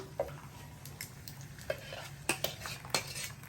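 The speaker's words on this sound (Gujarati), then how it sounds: "સારી રીતે મિક્સ કરો." Spaghetti sauce with tomato puree being stirred in a pan, a spoon scraping and tapping against the metal in irregular strokes over a soft background sizzle.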